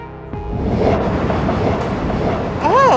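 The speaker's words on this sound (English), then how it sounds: "Oh, it's a train." A train rumbles past in the video game Eastward, a loud steady rolling roar of wheels with a brief high squeal near the end.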